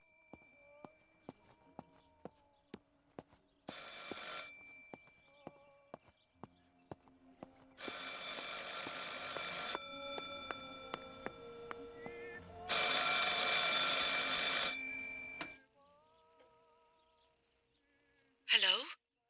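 A telephone rings in Martha Is Dead, several loud bursts of bright ringing separated by quieter pauses, with sparse clicks and faint sounds between rings and a short final chime.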